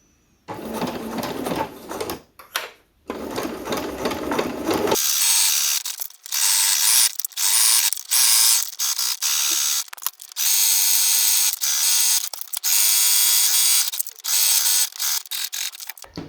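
A sewing machine runs in long steady bursts with short pauses, stitching an assembly seam around two pinned layers of fabric for a flat kitchen hair cap, loud and close, after a brief stretch of quieter handling noise.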